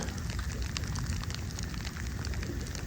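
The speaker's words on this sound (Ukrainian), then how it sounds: "тут же під кінець такий дощик" Steady spring rain patters and hisses continuously, dense and close, with a low rumbling background and no voices, at an outdoor fishing spot.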